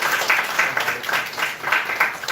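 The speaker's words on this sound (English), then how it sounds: "So I really want you to give a very short applause and welcome." A short round of audience applause at a youth innovation launch event, steady dense clapping in gentle pulsing waves, a full room at medium distance, with no voices over it.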